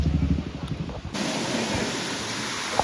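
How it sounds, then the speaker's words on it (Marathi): Rushing water at Amboli Ghat roars as a loud, steady broadband wash close by. A voice is briefly heard over it at the start. "इथं पाण्याचा आवाज असल्यामुळे माझा आवाज क्लिअर होणार नाही काही"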